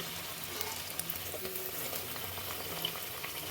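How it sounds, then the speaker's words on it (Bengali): Kachori deep-fry in bubbling oil, a faint close sizzle with scattered soft pops and crackles over a steady hiss, no voices. "সব কটার একদম কচুরি ফুলে ফুলে উঠছে"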